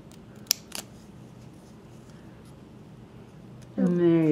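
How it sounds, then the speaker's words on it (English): Scissors snip a nail decal in two quick, crisp cuts close by, followed by a person beginning to speak. "you got to snip one off."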